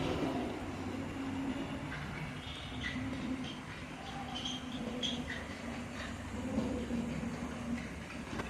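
A small battery-powered 009 gauge model locomotive runs round a layout track at slow speed, giving a soft, continuous rolling hum with faint wheel clicks close by. No voices are heard.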